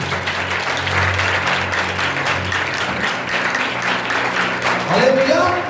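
A congregation claps in celebration during a Hindi-language church sermon, a steady wash of applause mixed with voices, with a rising shout or cheer near the end.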